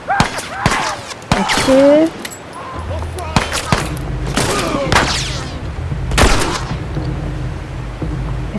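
Gunfire in the video game The Last of Us, a series of sharp shots scattered through the clip, mixed with game effects and a low drone, while a player talks over it.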